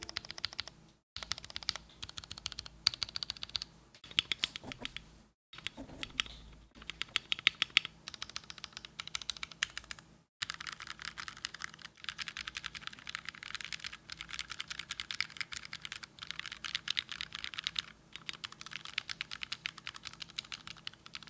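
Steady, close typing on a modded Ducky Mecha Mini mechanical keyboard, a continuous run of rapid keystrokes lasting about twenty seconds with only a few brief pauses and no voices.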